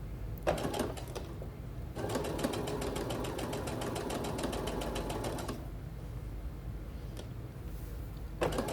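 A sewing machine stitches a seam down the side of fabric for continuous bias tape, with a steady rapid needle rattle in a few bursts separated by brief pauses, close and fairly loud.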